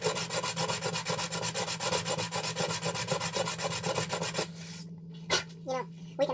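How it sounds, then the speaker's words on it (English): Sandpaper rubbed by hand over the threads of a custom lightsaber hilt in fast, even back-and-forth strokes, close and steady, then stopping for a few quieter handling sounds. "Back to sanding."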